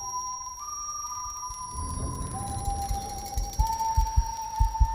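A thin, sustained whistle tone that holds steady and steps up in pitch, with low thuds and rumbling building underneath toward the end.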